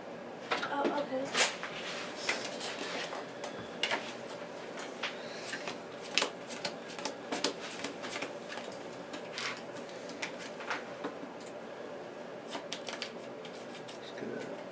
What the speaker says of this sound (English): Just get a little shuffle.